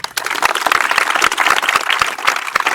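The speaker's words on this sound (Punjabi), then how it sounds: "ਤਾੜੀਆਂ ਵੀ" A crowd bursts into steady, dense applause, many hands clapping loudly and close for the whole stretch, with no voices standing out.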